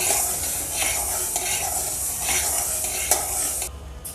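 Pearl millet (bajra) dry roasting in a pan with no oil, a close continuous rustling hiss of grains being stirred, with scraping strokes and a brief clink near the end before it drops away.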